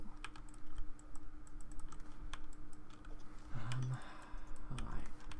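Rapid computer keyboard typing clatters in quick, uneven bursts of key taps at close range, with faint background hum and brief low murmurs.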